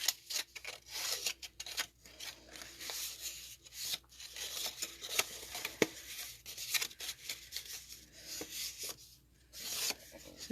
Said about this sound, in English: I'm burnishing this. So I'm folding it on all the fold lines.